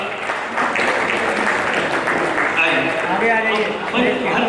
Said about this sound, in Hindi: आप तालियों के साथ उनका स्वागत कीजिए। तालियां रुकनी नहीं चाहिए